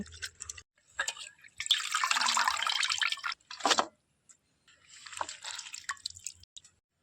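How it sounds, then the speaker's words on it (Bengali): Thankuni leaves are swished and squeezed in a bowl of water in separate bursts, with drips and wet squishing sounds between quiet gaps, close up. "এই জলের মধ্যে থানকুনি পাতাগুলো খুব ভালোভাবে ধুয়ে নেব।"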